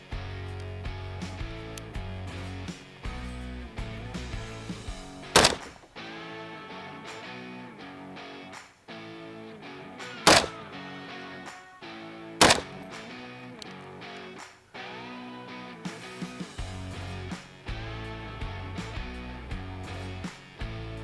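Gunshots strike a Guard Dog body armor panel: three sharp, loud reports spaced a few seconds apart over steady music.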